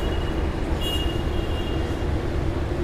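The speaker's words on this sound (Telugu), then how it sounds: "ఇంకా డీజిల్ ఇంజిన్ ఉన్నాయంట్రా." A diesel locomotive idles at Chennai's MGR Central railway station beside a Jan Shatabdi Express, giving a steady low rumble with a faint high whine and station ambience and no voices.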